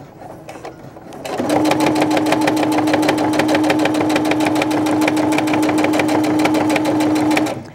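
A domestic sewing machine top stitching with heavy thread in needle and bobbin runs at a steady fast rhythmic whir for about six seconds, loud and close, after a brief quiet start; a voice briefly speaks at the very beginning.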